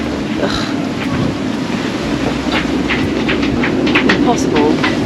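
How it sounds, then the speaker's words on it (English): A sailboat bashes into ocean waves on a passage from Fiji toward New Zealand, giving a steady, loud wash of water and wind noise with repeated slapping impacts throughout. "Bashing into the waves, trying to get west."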